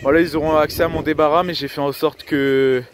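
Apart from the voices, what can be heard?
No distinct noise like a dog, phone or traffic.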